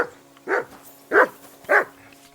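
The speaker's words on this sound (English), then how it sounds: "Get that mutt of yours to stop barking, will you?" A dog barks in the medieval video game Kingdom Come Deliverance II, giving three sharp, evenly spaced barks close by, with quiet background ambience between them and no talking.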